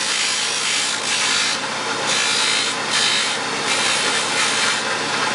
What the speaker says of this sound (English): Careful you don't catch the follower on the buffer wheel the wrong spot, it'll go flying